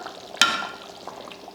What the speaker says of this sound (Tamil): நான் ஒரு ரெண்டு முட்டை எடுத்திருக்கேன் அதை ஊற்றிடலாம்